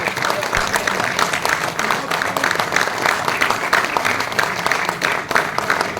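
Standing audience at a stage play in Tagore Hall, Srinagar, applauding in tribute to two patriots; dense, steady clapping fills the whole stretch at constant loudness, with some voices mixed in.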